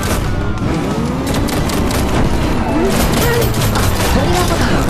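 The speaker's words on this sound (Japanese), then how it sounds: "トリガーボタンのガン攻撃が5つ分散されて発射" Trigger-fired gun attack in the futuristic VR motorbike game RUNNER on Meta Quest 2, a loud volley of scattered shots and booms over a constant dense roar of engine and effects.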